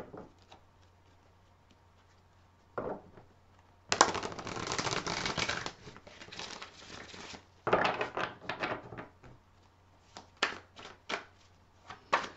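Tarot cards being shuffled by hand in quiet bursts of riffling and tapping, with brief pauses between rapid flurries of papery card noise.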